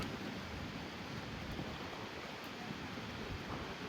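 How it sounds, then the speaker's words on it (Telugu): Waves on the reservoir of Karimnagar dam wash in steadily, a continuous broadband roar of surf mixed with wind buffeting the microphone, with no voices present. "ఫుల్ అలలు వస్తున్నాయి చూడండి, మీరు చూసుకున్నారు ఎట్లా వస్తున్నాయి వాటర్."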